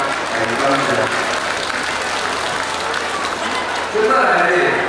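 Audience applause at a temple inauguration ceremony, sustained clapping from a sizable crowd that swells again near the end, with a voice speaking over it at the start.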